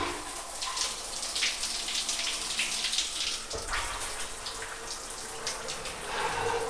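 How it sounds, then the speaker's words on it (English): Water runs steadily from a hostel shower, a continuous splashing hiss with slight changes in flow. "So, I'll open the water."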